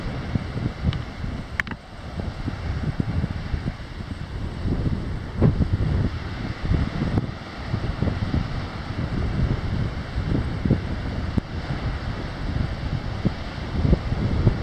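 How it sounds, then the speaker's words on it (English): Strong wind at Point Reyes on the coast, buffeting the microphone with a constant low rumble and gusty swells, and faint surf-like roar beneath it. "Very windy day today."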